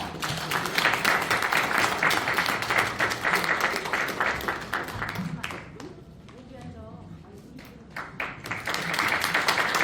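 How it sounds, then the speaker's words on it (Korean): Big, supportive applause from a seminar audience welcoming a guest speaker at a foundation's founding event, broad dense clapping that dips briefly mid-way before swelling again, with a voice over it. "여러분들 큰 박수와 응원의 박수를 부탁드리겠습니다"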